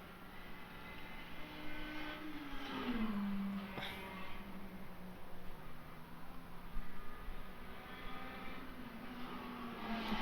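A Glickenhaus race car runs in Le Mans Ultimate, its engine a steady mid-distance drone with rising and falling pitch sweeps as it accelerates and shifts, under a constant hiss, with no talking.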